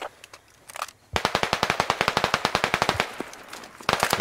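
RPK machine gun firing in the video game Squad: a rapid, steady burst of loud, close shots running for about two seconds, followed by a short pause and another brief burst.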